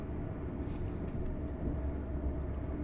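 A Hitachi 800 series train in Train Sim Classic runs at speed, giving a continuous low rumble with a steady whooshing roar throughout.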